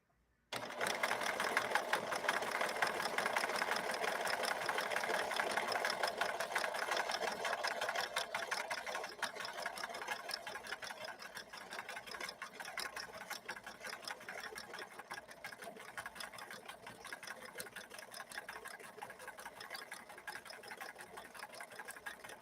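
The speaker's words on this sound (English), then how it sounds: "We're sewing a decorative stitch." A 1964 Montgomery Ward sewing machine runs steadily while sewing a decorative stitch, a close, continuous fast mechanical whir with a rapid needle rhythm that eases slightly in loudness partway through.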